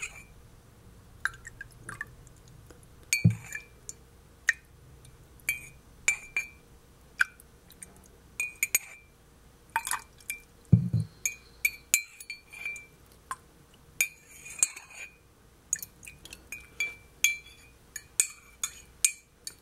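A porcelain teacup and spoon clink in sparse, delicate taps at close range, with a few sharper knocks and soft drips in a quiet setting, no speech.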